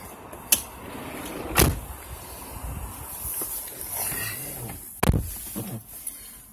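The power sliding door of a 2015 Dodge Grand Caravan SE closes quietly, with a few sharp clunks and latch clicks spaced over several seconds against a low, soft background.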